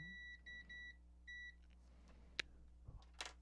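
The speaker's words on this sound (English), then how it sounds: "The annoying beep says that we have repaired." Short electronic multimeter continuity beeps sound quietly in quick succession during a Klipsch RT-10 repair, a brief pause between them, followed by faint clicks and taps.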